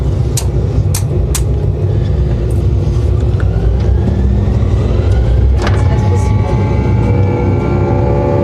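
Light aircraft engine opened up to full throttle for takeoff from an aerodrome, a loud steady drone filling the cabin with a rising tone midway, while people talk over it.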